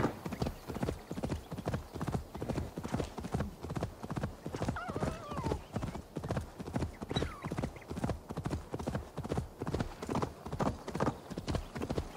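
Horse hooves gallop in a steady, rapid clip-clop rhythm throughout, with a brief whinny, in Assassin's Creed Valhalla; loud and close, with no talk over it.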